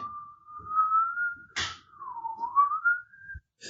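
A person whistles a sustained, gently wavering tone in a room, one long phrase broken by a brief knock or thud midway, then resuming and sliding up.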